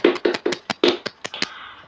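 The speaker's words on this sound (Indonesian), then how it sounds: "Tepuk tangan semua untuk kalian semua." Children clap their hands in a quick rhythmic pattern in a fourth-grade classroom lesson, about ten sharp, close claps in uneven beats that trail off.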